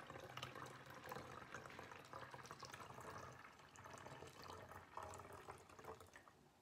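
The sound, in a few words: vinegar being poured into a spray bottle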